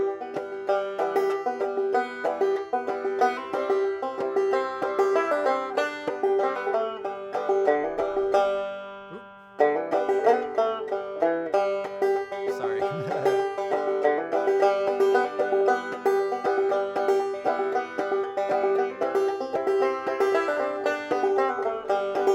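A banjo is picked in a steady, bright clawhammer rhythm, playing the closing line of Hills of Mexico, with a short pause partway through before the melodic line resumes and rings on to the end.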